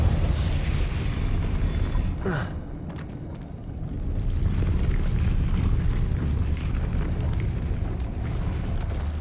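A Depulso spell cast in Hogwarts Legacy: a loud, dense rumbling blast with a sharp burst near the start, then a sustained roaring wash that dips briefly and swells again, under game sounds.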